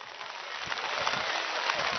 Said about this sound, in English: The rain has picked up a little bit on us here, Brad.